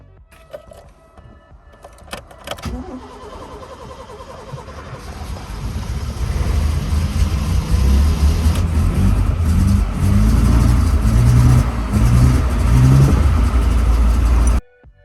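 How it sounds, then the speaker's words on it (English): A Rover SD1 engine is cranked and catches after a couple of tries, then settles into a loud, steady idle with repeated revving swells, heard close by and alone for the rest of the stretch. "I put the key in and attempted to start"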